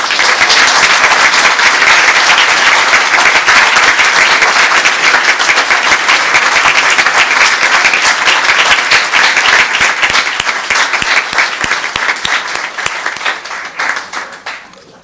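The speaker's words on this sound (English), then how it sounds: "And let's give them a round of applause." An audience at a town council meeting in Los Gatos claps in loud, dense applause that holds steady, then thins and fades out over the last few seconds.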